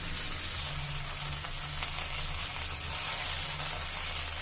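Beef pieces browning in a pan over a medium flame, a steady even frying sizzle that holds at a constant level throughout with no voices.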